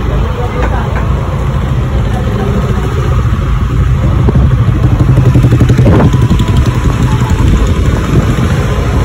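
Motorcycle riding along a village road, its engine drone steady and close with road rumble throughout, while a person talks over it.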